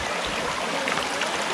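River water flowing along a channel, a loud, steady broadband rush and babble close by, with no speech over it.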